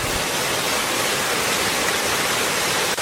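River water flows steadily near a bamboo house in the jungle, a loud, continuous broadband rush with no pauses and no voices.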